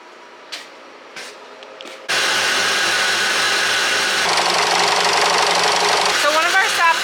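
A pump at a maple syrup evaporator moving sap delivered by a customer: after a few faint knocks, a loud steady mechanical drone starts abruptly and runs on, close and continuous.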